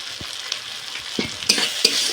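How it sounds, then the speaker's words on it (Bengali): Thick spice paste of cumin, chili and turmeric powder with salt being stir-fried in oil for egg vapa curry, a steady sizzle broken by several scraping stirs of a spatula against the pan, close and alone with no talk. "এবার মশলাটা একটু ভালো করে কষিয়ে নেব।"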